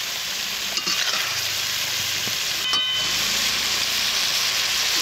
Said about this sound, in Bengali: এইভাবে মশলাটা ভালো করে কষে নিয়েছি।